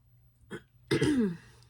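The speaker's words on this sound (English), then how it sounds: "Sorry about the cough" A single sharp asthmatic cough, close and fairly loud, preceded by a brief throaty sound, with quiet background before it.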